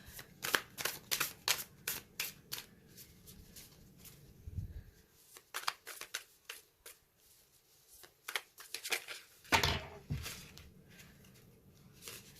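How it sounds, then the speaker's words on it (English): Tarot cards are shuffled close up in a quiet room. Quick riffles and soft slaps come in irregular bursts with short pauses between them, and no one speaks. "We're going to pull 12 cards."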